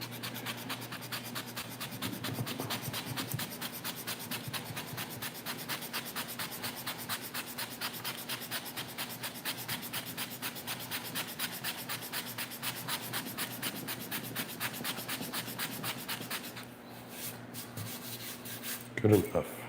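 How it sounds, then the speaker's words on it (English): Sandpaper is rubbed steadily over an object to clean it, giving a close, continuous rasping scrub at an even back-and-forth pace for most of the clip before a brief clatter near the end. "Run sandpaper over it to clean it up."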